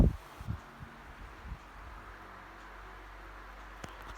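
A Honeywell QuietSet stand fan with a loose grill runs at a newly selected speed, a faint, steady airy whoosh that settles in after a few soft handling thumps.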